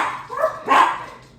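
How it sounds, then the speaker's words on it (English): Dogs give two short, close barks, one after the other, in an indoor setting. "No idea why they're barking."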